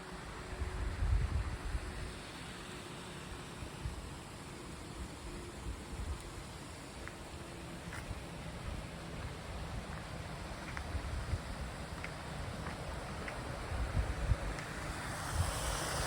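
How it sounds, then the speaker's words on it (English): Strong wind sweeps across a lakeside camp in the Desolation Wilderness, where whitecaps break on the water: a continuous, loud broadband rush with low gusty buffeting on the microphone and a few brief surges, with no voices. "Super windy this morning."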